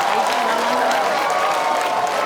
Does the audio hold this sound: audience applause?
yes